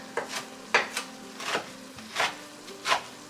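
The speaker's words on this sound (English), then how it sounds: "let's chop it up really, really small." Six evenly spaced knife chops land on a cutting board through cooked kale, each a soft thud, close and fairly quiet, with no talking.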